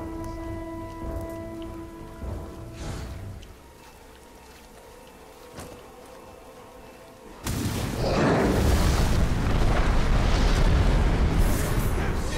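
Explosions and battle in the video game Middle-earth: Shadow of War, with tonal hum and a few dull thuds giving way to a loud, sustained roaring rumble like a blast or eruption.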